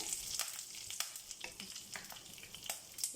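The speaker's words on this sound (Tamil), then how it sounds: "நம்ம ஆயில் ஊற்றி தாளிச்சதில் கருவேப்பிலை எல்லாமே ஒன்று சேர்ந்து நல்லா மிக்ஸ் ஆகணும்" Dal, curry leaves and a whole dried red chili with its stem sizzling in hot oil as a South Indian tempering for temple-style puliogare, a soft steady fry with scattered crackles and pops.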